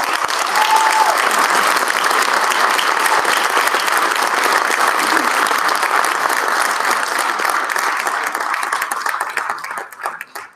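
Loud, sustained applause from a crowd at a Cesar Chavez Day speech, dense clapping holding steady for about ten seconds before thinning out and stopping.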